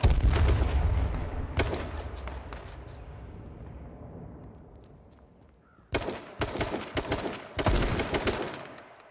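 Sniper rifle shots in the H1Z1 battle royale game crack out loud and close, one heavy report with a long rolling echo, then a quick cluster of sharp shots later on.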